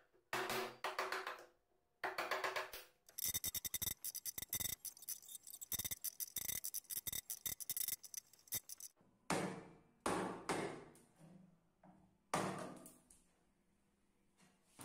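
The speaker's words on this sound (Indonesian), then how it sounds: "Kemudian pahat bagian yang tidak diperlukan menggunakan chisel seperti ini teman-teman." Chisel cutting waste wood from a dovetail joint for a small stool, heard as a close, rapid series of sharp taps and scraping strokes that come in bursts with short pauses.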